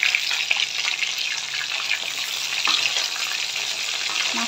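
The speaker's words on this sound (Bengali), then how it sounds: "একটু লাল লাল করে ভেজে নেব, হালকা বাদামি করে।" Pieces of fresh rohu fish fry in a pan until lightly browned, giving a steady, close, bright sizzle with faint spatters and no talking.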